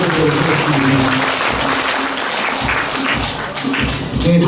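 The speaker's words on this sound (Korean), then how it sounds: "이재준 수원시 제2부시장님께 다시 한번 큰 박수를 부탁드리도록 하겠습니다." A crowd at a year-end thanksgiving event at a Buddhist meditation center applauds Suwon's second deputy mayor, loud and sustained clapping from many hands close by, with a few heavier thumps mixed in.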